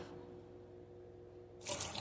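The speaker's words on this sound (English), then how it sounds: "You can just rinse it off with hot water" Hot tap water rinsing a kitchen gadget under a faucet starts suddenly near the end as a bright, close rush of running water, preceded by quiet low hum.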